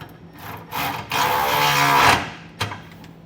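Ratchet-driven 1/2 inch socket whirring and clicking while tightening a bolt on a B&W Companion 5th wheel hitch in a 2023 Chevrolet, a sustained mechanical buzz of about a second with short knocks around it.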